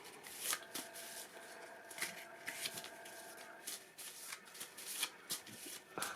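Continuous crisp riffling of playing cards being shuffled, repeated bursts with a steady rhythm, close up and fairly quiet.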